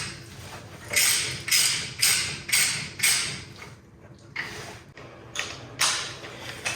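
A ratchet tightens hub axle flange bolts on a 100 Series Land Cruiser, a series of close, crisp clicking strokes in a steady rhythm of about one per second, with a short pause midway.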